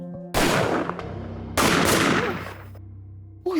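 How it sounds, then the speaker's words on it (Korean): Gunfire ringing out over a rural village in Uiryeong County, South Gyeongsang, Korea: two loud, sharp blasts with long echoing decay, the second about a second after the first, then a third starting at the very end. "이거 총소리 아니에요?"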